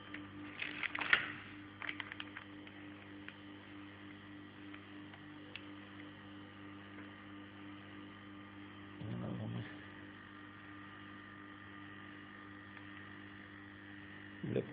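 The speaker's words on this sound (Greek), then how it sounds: "εδώ είμαστε συνδεμένοι για να βάλουμε το μοτέρ μας μπροστά" A homemade vacuum pump's motor runs with a steady low electrical hum and faint whine throughout, a couple of brief clattery bursts near the start and middle, fairly quiet and alone.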